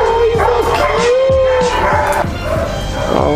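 A small dog barks and yips in quick, close bursts, with high whimpering tones between the yaps, loud and up front throughout.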